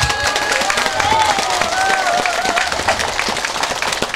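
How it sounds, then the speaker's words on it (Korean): Lively audience applause at the Chuncheon Dakgalbi Makguksu festival, many hands clapping in a dense rapid patter, loud and close, with cheering voices and a sustained whistle-like tone running through it. "그런데 박수 소리가 조금 더 크게 좀 주시면 됩니다."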